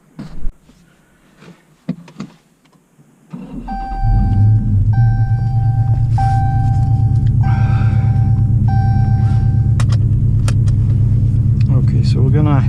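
A 2018 Dodge Challenger with the 6.4 L engine and six-speed Tremec manual, driven in sport mode, heard from inside: a deep, steady engine rumble rises after a quiet start and holds loud, with brief chime-like tones and some talk early on.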